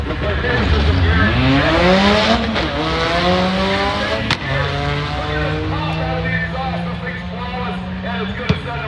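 Drag race engines at full throttle, a four-cylinder Ford Ranger against a supercharged Mercedes-Benz V8, revving and climbing through gears with a loud, layered roar and an announcer talking over it.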